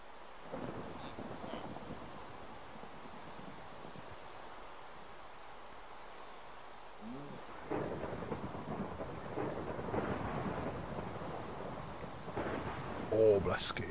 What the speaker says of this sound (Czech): O, blesky.